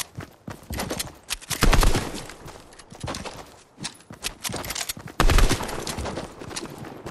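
Gunfire in Fortnite: repeated bursts of rapid automatic shots, loud and close, with brief pauses between the volleys and a few scattered single cracks in between.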